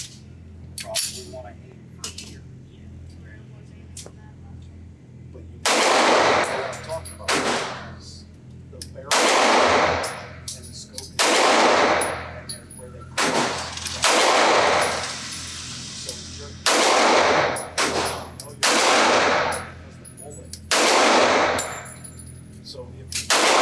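A CZ 2075 D Rami subcompact pistol fires at a range, sharp loud shots coming singly and in spaced bursts with quiet gaps and small metallic clinks between them.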